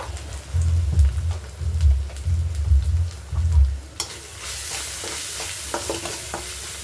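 Vegetables with turmeric and ginger-garlic paste frying in a pan for homemade egg fried rice. Low, thudding stirring strokes come first, then a steady close sizzling hiss takes over, with no talk.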